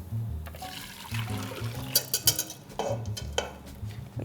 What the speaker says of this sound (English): the mixture goes back into the saucepan